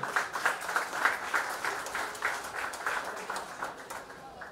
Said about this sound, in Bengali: নিমন্ত্রণ করে জোরে হাততালি একবার